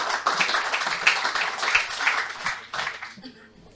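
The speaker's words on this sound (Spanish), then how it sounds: "Un aplauso, por favor." An audience at a technical presentation on water treatment plants gives a short round of applause that fades out toward the end.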